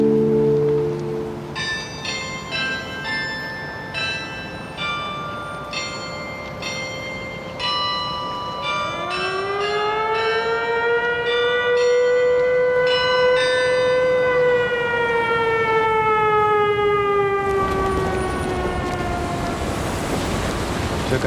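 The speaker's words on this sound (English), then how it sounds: "Air raid sirens sound very often" Air raid sirens wail across Kyiv, Ukraine, several rising and falling tones overlapping loudly in the open city air for a long stretch, with a lower surging rumble building toward the end.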